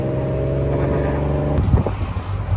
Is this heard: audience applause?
no